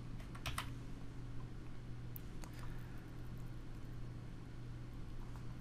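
Quiet clicking of keys on a computer keyboard, a light irregular tapping with a few brisker bursts, alone against a faint steady hum.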